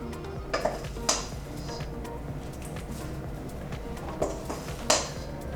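Vegan lemon coconut cake batter being scraped into a loaf tin greased with coconut oil and smoothed flat, heard as a few sharp utensil knocks and scrapes against the pan spread over several seconds over a soft room background, with no talking.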